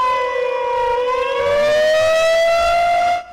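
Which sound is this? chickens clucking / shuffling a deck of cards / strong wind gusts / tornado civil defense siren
tornado civil defense siren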